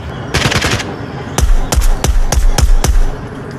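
Makarov pistol shots in the VR shooter Onward, a rapid burst of crackling fire followed by about six sharp, loud, evenly spaced single shots, close and with no talking.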